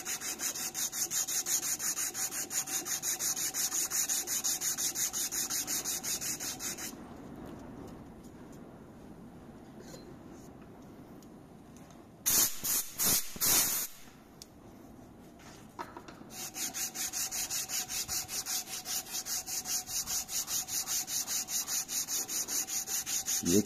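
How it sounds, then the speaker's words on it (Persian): A wooden knife handle is hand sanded with 180-grit sandpaper, producing quick rhythmic scratchy strokes that stop for several seconds, give way to a few sharp knocks and rustles, then resume steadily. "دوباره شروع میکنیم به سنباده زدن تا اون شیارای 80 که با سنباده 80 انداختیم از بین ببریم و به سطح نرمتری برسیم"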